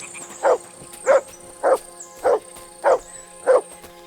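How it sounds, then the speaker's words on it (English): Six evenly spaced barks from a dog in Kingdom Come Deliverance 2, each short and mid-distance, repeating about every half second over a quiet outdoor game ambience with a faint high tone. "Good dog, Mutt."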